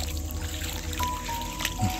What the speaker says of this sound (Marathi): मस्त वाहतं पाणी आहे